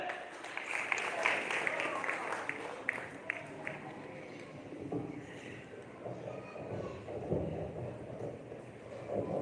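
Audience at a Hindi comedy poetry gathering in a Jain hall claps in a dense, continuous wash of applause, fairly distant and faint, with voices mixed in.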